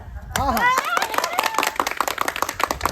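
Rhythmic group clapping at an Indian Independence Day flag hoisting, steady claps close by, with voices singing or chanting over them throughout.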